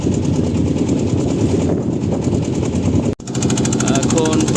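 A trawler's engine drones and rattles loudly and continuously close by, running slowly through river waves near Barishal, cutting out for an instant before chugging on.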